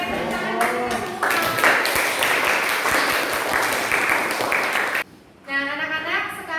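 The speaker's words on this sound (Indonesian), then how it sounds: "tepuk tangan buat kita semua." Schoolchildren clap together in a classroom, a bright burst of applause lasting a few seconds, framed by a teacher's voice before and after.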